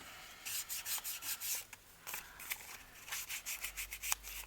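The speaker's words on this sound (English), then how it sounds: "I'm going to fold this back and ink this line" An ink pad is rubbed along the folded paper edge of a book page, making close, rhythmic scratchy strokes in a quick series with brief pauses between.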